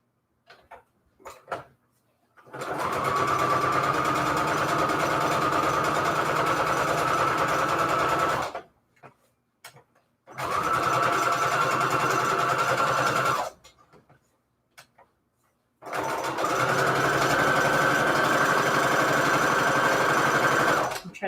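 Sewing machine stitching a border around a paper journal card, heard as three sustained bursts of steady, rapid mechanical whirring separated by short pauses, close and loud with no talking.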